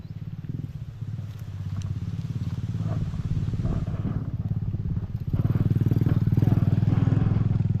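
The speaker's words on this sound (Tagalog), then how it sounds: "Tabi lang tayo kasi mayroong motor." A motorcycle passes close by on a village street beside a residential lot, its engine a steady low drone that grows louder and nearer toward the end, with faint background clatter.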